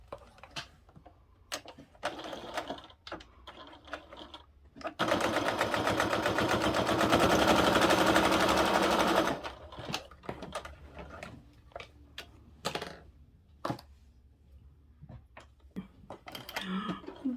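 A sewing machine stitches the sides of a fabric billfold wallet in one steady four-second run, close and fairly loud, framed by clicks and handling noises before and after.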